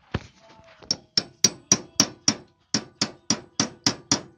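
A hammer taps a part into a fitting during a go-kart build with a snowmobile engine: about fourteen sharp metallic knocks, sparse at first, then a steady, evenly paced run close by.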